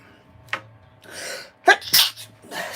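A person sneezing indoors, two sharp sneezes in quick succession with a small catch of breath before, fairly close and alone.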